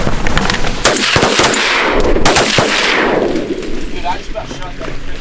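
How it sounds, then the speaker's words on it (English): Loud shotgun blasts go off during a duck hunt, aimed at a hawk, with sharp close reports crackling over wind and field noise. "I just about shot that freaking chicken hawk"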